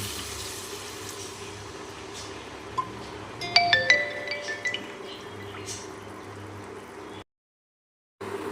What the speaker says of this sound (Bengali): পরিমাণ মতো ঈষদ উষ্ণ গরম জল দিয়ে দিচ্ছে